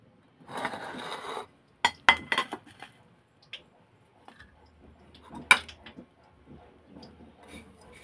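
Fried tamban fish is set onto a plate with several close clinks and scrapes of fish and utensil against the dish, spread over a few seconds in a quiet kitchen.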